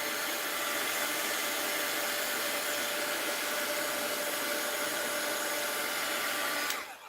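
A heat tool blows a loud, steady stream of hot air to melt wax for wax seals, running close by without a break until it cuts off at the very end.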